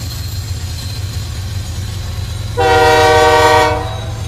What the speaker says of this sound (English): This is NS-262, one of the road railer trains that come through here.